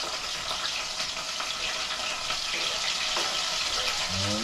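Onion and pepper frying in a pot for ackee and saltfish, a broad hissing sizzle that stays even throughout, close and unaccompanied by speech.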